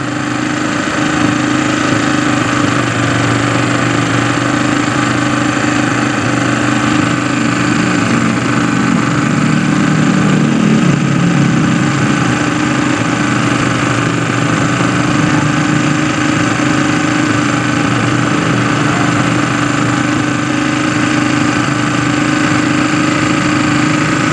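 A Yamaha Byson motorcycle engine idles steadily and loudly for a long stretch, a close, continuous mid-pitched rumble with no talk.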